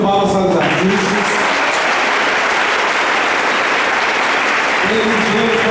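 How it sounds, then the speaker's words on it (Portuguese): A church congregation at a Corpus Christi Mass applauds the carpet artists with a loud, sustained burst of clapping, and voices are heard at the start and end. "Nós abrimos palmas para os artistas."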